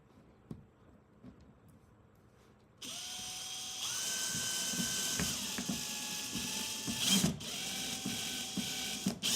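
A power drill whirs and ratchets as it drives a screw into a cat cabinet, a steady motor hum that rises in pitch after a few seconds, following quieter handling clatter.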